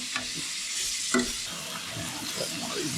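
Butter sizzling on steaks in a hot pan, a dense close hiss and crackle that holds steady throughout with a few brief scraping accents, no voices.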